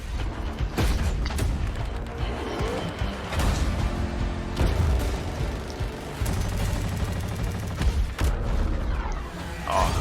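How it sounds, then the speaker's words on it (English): Repeated booming blasts and rapid gunfire-like bursts from Battlefield 2042, loud and dense, with mechanical clanks and rumbling between hits. "look at those fucking explosions"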